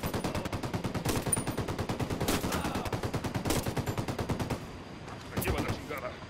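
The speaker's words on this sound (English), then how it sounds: "I'm opening fire." Sustained automatic gunfire in the Ghost Recon Wildlands shooter game, rapid steady bursts that continue for several seconds before trailing into a few scattered shots, loud and close.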